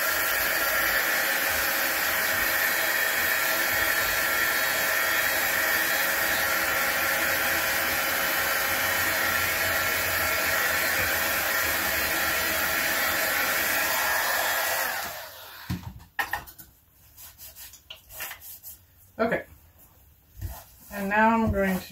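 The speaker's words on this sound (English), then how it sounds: "we're just gonna give this a little bit of a dry because the oxides do tend to stay wet" A heat tool roars steadily and loud for about fifteen seconds as it dries wet oxide inks on a craft stencil project, then cuts off, leaving quieter handling noises and brief speech.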